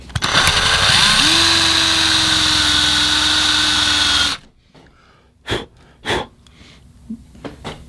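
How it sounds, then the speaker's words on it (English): A power drill bores into the crack of a cracked cylinder head, a loud steady whine for about four seconds, then it stops and a few sharp knocks follow in the quiet. "I am drilling through the center of the crack."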